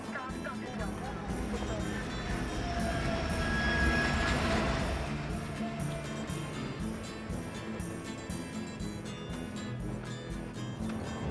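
Steady low rumble and rattling of the Trans-Siberian Express rolling along rails, continuous and fairly loud throughout, with faint voices mixed into the din.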